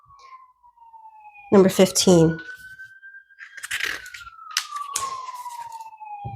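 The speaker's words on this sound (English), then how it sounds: "Sorry about the sirens" Emergency vehicle siren outside wails in a long, slowly rising and falling tone, moderately distant, running beneath a person talking indoors.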